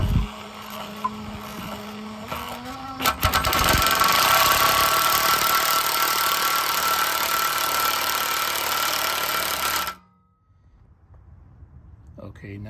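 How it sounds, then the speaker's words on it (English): A powered nut driver raising the spare tire carrier on a Sunray 109 camper, whirring and rattling loudly and steadily for several seconds before cutting off abruptly into quiet. "at this point, you put your nut driver back on. Now slowly lower, raise it up."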